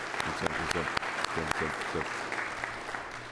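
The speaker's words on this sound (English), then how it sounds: "So I do want to give all of you a round of applause again for being here." Applause from newly reelected legislators at a swearing-in orientation, a steady broad clatter of clapping under a voice speaking over it.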